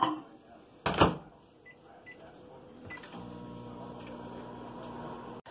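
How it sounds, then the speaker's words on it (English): A microwave oven heats a chocolate mug cake: a door thunk and beeps at first, then the low, steady electric hum of the oven running, fairly quiet. "Let's go pop this bad boy in the microwave."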